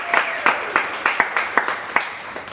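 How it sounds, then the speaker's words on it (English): Comedy club audience applause in Brisbane's West End, a sparse, rhythmic run of fairly loud claps, roughly three per second, with little crowd noise around them. "Big round of applause for Dom."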